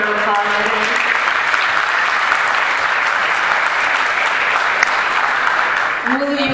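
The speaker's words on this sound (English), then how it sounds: "Please, let's give her a round of applause." Loud, dense audience applause at a community event, a steady wall of clapping that holds evenly for about six seconds before a voice begins speaking at the end.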